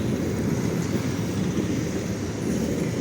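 A tram rolls along a street in Lviv with a steady, loud rumble of wheels on rails, continuous and close throughout, with no voices.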